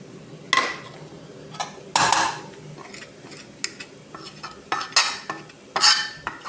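A spoon scraping and clattering in a cooking pan as chili powder and coriander powder are stirred into a chicken and potato roast, in irregular clinking bursts with faint sizzling between them.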